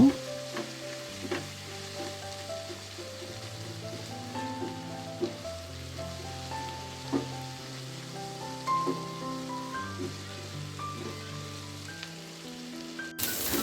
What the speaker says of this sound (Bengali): তা এখন পেঁয়াজ কাঁচামরিচটাকে কিছুক্ষণ ভেজে নেব।